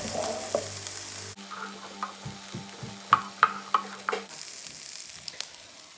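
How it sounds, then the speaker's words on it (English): Garlic and ginger fried and stirred in a pan, a sizzle that drops abruptly then continues quieter, with a run of distinct scraping and knocking stirring strokes in the middle. "We're now going to add our garlic and ginger, and Edward's going to keep on mixing well."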